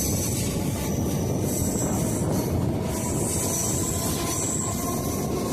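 A local train pulls out of Dakshineswar railway station on the Sealdah–Dankuni line, a loud continuous rumble of wheels and carriages with faint high squeals, close and steady throughout.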